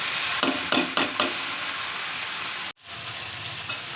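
Potatoes, spices and boiled chickpeas fry in a pan with a steady sizzling hiss. Several spoon scrapes and knocks come early on, then a brief dropout before the sizzle resumes.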